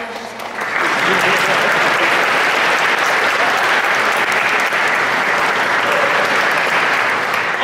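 Audience applause for a congressman at a philosophical society gathering swells within the first second into a loud, dense, sustained roar of many clapping hands that holds steady to the end, with some crowd voices beneath.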